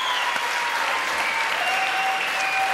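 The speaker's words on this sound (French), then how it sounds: "vous demanderai d'applaudir quelques instants" Studio audience on a French television variety show applauding, dense steady clapping from a crowd that carries on without a break.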